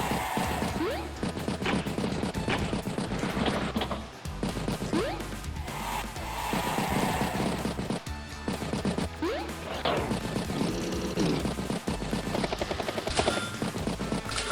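A recon unit attacks infantry in Advance Wars by Web, producing a loud barrage of rapid gunfire and crashing impacts over a busy game soundtrack. The shots pound continuously with short pauses between bursts.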